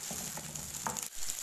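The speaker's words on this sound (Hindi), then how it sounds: "और उनको भी हम जो है कुक कर लेंगे मीडियम फ्लेम पे ही 1-2 मिनट के लिए" Green peas and onions frying in a pan over a medium flame, giving a brief steady sizzle with a few faint stirring scrapes and no talk.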